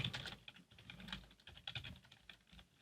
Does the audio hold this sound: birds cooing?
no